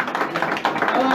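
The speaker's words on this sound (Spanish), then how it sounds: "Los de atrás aplaudan." A church congregation at a Spanish-language sermon claps briefly, its scattered applause running under a preacher's loud talking.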